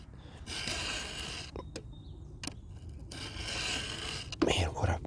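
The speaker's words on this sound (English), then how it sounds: "as I sharpen across that tooth" A file rasps across a chainsaw chain tooth during sharpening, with a few long, close scraping strokes separated by short pauses, all fairly quiet.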